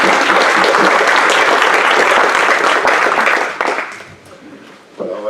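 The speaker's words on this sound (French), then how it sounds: "je crois qu'on peut applaudir" Audience applause at the close of a French lecture on inheritance law, a steady dense clapping that fills the room, then thins and fades out, followed by a brief voice.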